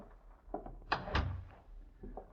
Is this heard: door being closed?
yes